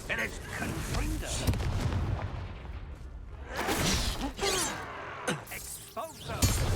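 Confringo spell blasts in the Hogwarts Legacy video game, heard as repeated explosive booms and whooshing bursts in a dense, loud battle mix, with voices talking between the blasts.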